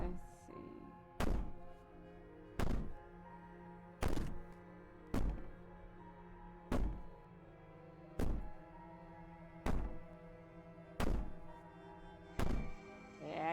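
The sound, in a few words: banging and wailing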